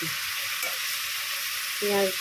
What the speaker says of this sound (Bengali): সেই চিচিঙ্গেটা ভাজছি আজকে। পেঁয়াজ দিয়ে